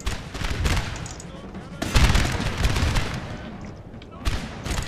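Infantry musket volleys in Napoleon: Total War, a strategy battle: continuous crackling rifle fire with heavier booming surges, dense and layered like a battlefield at middle distance, carrying on without pause through the clip.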